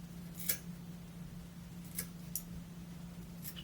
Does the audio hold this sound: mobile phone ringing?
no